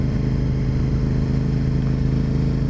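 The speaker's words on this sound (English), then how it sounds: "You tend to brake a little bit, and then you just sort of close the throttle for a second, throw the bike over, and open the throttle again." A Yamaha TZ250H two-stroke race bike engine buzzes steadily and loud through a corner, its throttle easing and reopening within a short, continuous drone with no talking.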